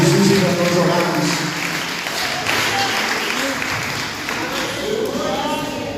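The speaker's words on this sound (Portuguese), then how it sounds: "Você pode dar um forte aplauso, ficar de pé em nome de Jesus e nós orarmos." A church congregation applauds loudly and steadily, a dense continuous wash of many hands clapping at once, with voices faintly mixed beneath.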